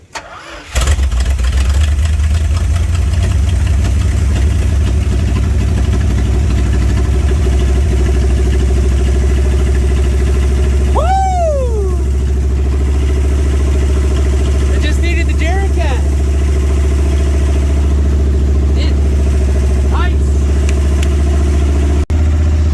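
A long-dormant Dodge Adventurer 4x4 cranks briefly, catches, and settles into a loud, steady idle close by, with a couple of brief rises in engine pitch partway through.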